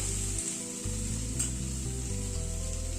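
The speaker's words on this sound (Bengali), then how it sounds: "চিকেনটা দিয়ে আবারও এই 1-2 মিনিট একটু নাড়াচাড়া করে নিলাম" Chicken pieces frying in a pan give off a steady sizzle while being stirred, with a low background hum underneath and no voices.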